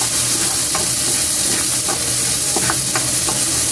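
Onions and chili sautéing in oil in a pan for pork pakbet: a steady close sizzle with light stirring scrapes and occasional clinks, no talking.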